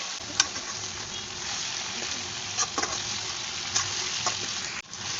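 Food sizzles steadily while frying in a pan, with a few scrapes and knocks of a utensil stirring and mixing it, close and alone without talk.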